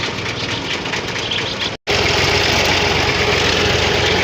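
A tractor with a loaded trolley idles on a canal-side village road, its engine rumbling steadily and loudly up close, broken by one very short dropout before the chugging continues.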